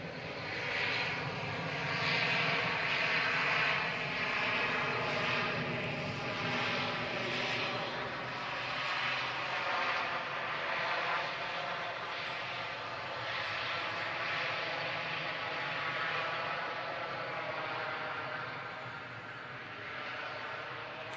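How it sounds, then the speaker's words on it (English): A TUI Boeing 737-800 jet taking off at Manchester Airport for Gran Canaria: a steady, loud broadband engine roar that holds strong and fairly even throughout, with no talk over it. "The TUI is off to Gran Canaria. 737-800."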